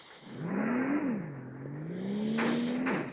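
A car engine revving in the Free Fire video game, a rising and falling engine pitch that climbs, dips, then climbs again, close and steady, with a brief burst of noise near the end.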